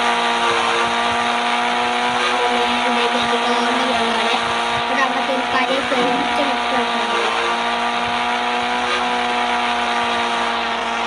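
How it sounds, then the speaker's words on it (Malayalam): A speed boat engine roars loudly and steadily as it accelerates, a continuous harmonic drone that builds slightly, with a voice talking over it. "സ്പീഡ് ബോട്ടാണ് സംഭവം"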